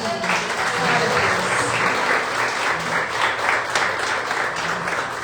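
A church congregation applauds steadily at a women's service, dense clapping filling the room at a loud, even level for several seconds.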